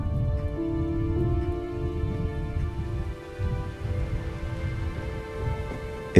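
Steady rain falls outdoors at a polo ground, a dense continuous patter and hiss with low rumble beneath, unbroken for several seconds and no voices.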